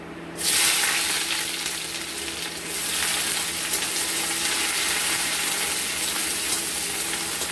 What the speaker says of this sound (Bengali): এবার দিয়ে দিব আমরা পেঁয়াজ কুচি।